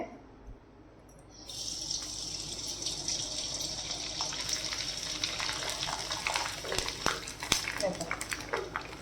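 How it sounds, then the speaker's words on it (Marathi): Sabudana, bhagar and potato chakli frying in hot oil, a steady loud hiss and crackle that starts abruptly and keeps going with scattered pops, while someone talks over it. "आता तुम्हाला तळून दाखवते चकल्या"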